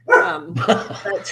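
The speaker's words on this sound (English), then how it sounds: "And that's my dog." A pet dog barks several times in close succession indoors, loud and near, with brief whimpering sounds between barks, while a person starts speaking over it.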